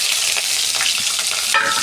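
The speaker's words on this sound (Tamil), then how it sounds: "சின்ன வெங்காயம் நல்லா வதங்கணும்" Small onions (shallots) frying in oil with chana dal and urad dal, a steady close sizzle with scraping stirs throughout, no voices.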